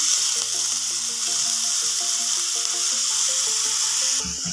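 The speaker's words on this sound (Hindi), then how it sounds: "हमने इन सब चीज़ों को अच्छे से भून लेना है।" Tomato paste and spices fry in oil for an egg masala gravy, a loud continuous sizzle close by with soft stirring underneath and no speech.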